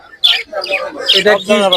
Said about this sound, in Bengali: বাজিগার নিয়ে এলাম, লাভবান নিলাম, কোকাটেল আনলাম, কবুতর আনলাম।